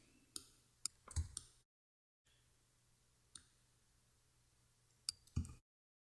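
A computer mouse clicks a few times while the Option key is held during Photoshop work. Sparse, sharp, close clicks come in small clusters, separated by quiet gaps and brief dropouts, with no talking.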